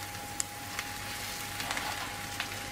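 Spinach hitting a pan of softened, golden onion and garlic, giving a steady low sizzle and frying hiss with a few faint clinks and stirring ticks throughout, no voices.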